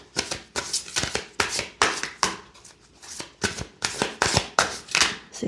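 Tarot cards being shuffled by hand, a quiet series of rapid riffling bursts repeating in an uneven rhythm, close and alone.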